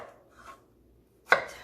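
A knife cutting a potato on a board: one crisp, sharp chop near the end after a couple of faint soft handling sounds, close and otherwise quiet.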